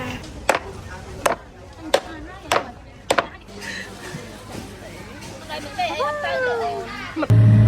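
A market seller brings a knife down on fish in a series of sharp, loud chops at a steady pace, then the chopping stops as people chatter nearby and a voice rises over the bustle.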